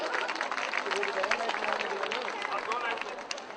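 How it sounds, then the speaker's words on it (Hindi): An audience claps during an Independence Day celebration at a farm venue, a dense, lively spread of applause with crowd chatter and cheering mixed in, holding steady throughout. "तालियां बजाइए मुझे।"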